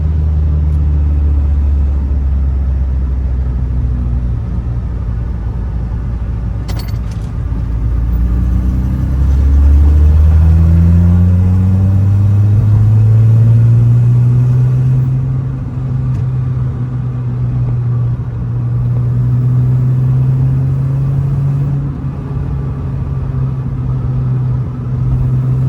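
A cold start of an Acura TL with a 3.7 engine swapped in, a six-speed, a Comptech exhaust and a J-pipe: a loud, deep idle that rises into a high cold-start rev, then settles to a steady drone, heard alone throughout.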